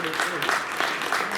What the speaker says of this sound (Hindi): एक बार फिर से तालियों से बहुत जोरदार स्वागत।